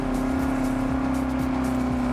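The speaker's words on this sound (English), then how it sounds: "it has a supercharger sound in its bonnet cam, but it's really, really muffled." A supercharged car engine in the TDU Solar Crown racing game drones with a steady, muffled tone and a continuous whine, heard from the bonnet camera at a fairly loud, even level.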